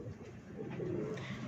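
A pigeon coos close by in a low, steady murmur that runs throughout, with no talk over it.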